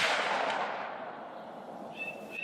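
A Weatherby 6.5 Creedmoor rifle firing Barnes VOR-TX ammunition, caught in the fading tail of a single loud shot that rolls off into open-air echo and quiet.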